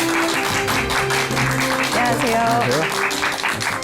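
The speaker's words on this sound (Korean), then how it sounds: "큰 박수 부탁드립니다." Steady applause from a studio audience as a guest doctor is welcomed onto a Korean talk show, continuous and moderately loud, with a man's greeting briefly heard over it.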